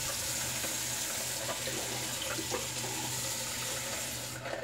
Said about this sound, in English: let the warm water continue to run over it